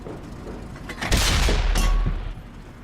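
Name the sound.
tank gun blind shot in video game World of Tanks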